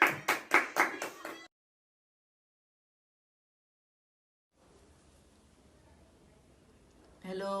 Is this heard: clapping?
yes